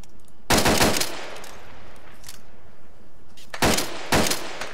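Automatic gunfire in the video game Arma 2, with a loud burst, a fainter short volley in the middle, then two more loud bursts close together near the end.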